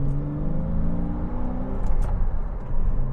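Engine and intake roar of a 2004 Porsche Boxster S 550 Spyder Special Edition, a smooth rising and falling hum heard from inside the cabin, with a louder surge of revs near the end.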